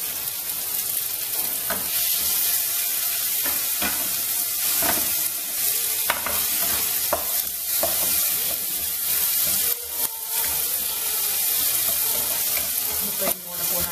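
Tomatoes sizzle in a frying pan, a loud continuous crackling hiss with occasional stirring scrapes and clicks throughout.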